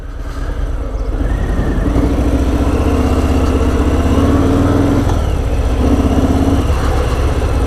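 A big-engined Harley-Davidson FLSL 1740 Slim motorcycle runs close by, a loud, steady low rumble that swells slightly in pitch around the middle as it pulls along, with no talking over it.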